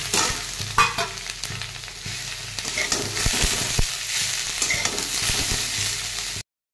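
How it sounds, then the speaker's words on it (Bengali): Boiled potatoes sizzle in a pan while being stirred, a steady close frying hiss broken by scraping stirs, with no voices. "আলুগুলো খুব সুন্দর ভাজা হয়ে গিয়েছে"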